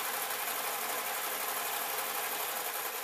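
A fast, noisy sewing machine runs a continuous long stitch on satin, a dense, steady mechanical whirr with rapid regular ticking, close and unbroken throughout.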